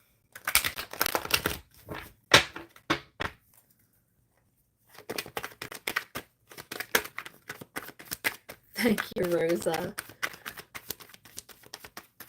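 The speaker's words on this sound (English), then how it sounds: "I was just told to give it a good shuffle" Tarot cards shuffled by hand in bursts of rapid riffling and patting, close and crisp, with short pauses between rounds and a brief spoken voice near the end.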